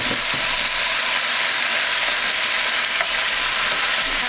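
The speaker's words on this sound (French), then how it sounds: "on va ajouter du coup la viande pour la faire dorer aussi à son tour sur tous les côtés" Meat for a beer carbonnade sears in a hot pan, giving a steady, dense sizzle of frying that carries evenly throughout with no voices over it.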